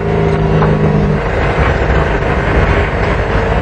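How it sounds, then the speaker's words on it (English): A compressed-air powered MDI car makes a loud, steady engine-like whir and rumble continuously close by, a dense mechanical drone with no voices. "It's a car that runs on compressed air"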